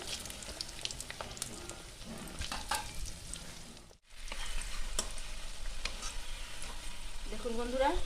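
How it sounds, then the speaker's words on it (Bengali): Potatoes deep-frying in plenty of hot oil for a five-vegetable dish give a steady, dense sizzle with occasional stirring scrapes, briefly dropping out for a moment before the crackle returns just as strong. "আলুটা আমার একদম লাল করে ভাজা হয়ে গেছে"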